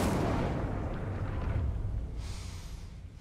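A fire spell, Incendio, is cast in Hogwarts Legacy as a loud, roaring burst that swells at once and then tails off over about three seconds, with a faint whooshing hiss near the end.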